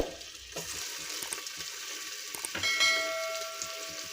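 Tomatoes hit hot oil in a pressure cooker that already holds cumin, onion, green chilli and whole spices, giving a close, steady sizzle with stirring clatter and a brief metallic ring.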